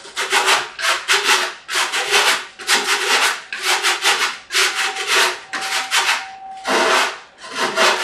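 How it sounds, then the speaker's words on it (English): Sandpaper rubbed by hand over the freshly cut edges of rough-cut timber for a Dobsonian telescope build, in steady back-and-forth strokes of close, loud, dry scratching with brief pauses between passes and no talking. "when it's superficial like this, you can just use a piece of sandpaper"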